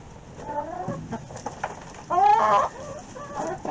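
Two broody hens sharing a nest spot give low, grumbling clucks and a louder drawn-out squawk midway, close and alone without talk.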